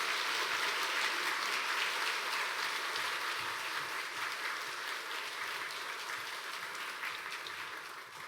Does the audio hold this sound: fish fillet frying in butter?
no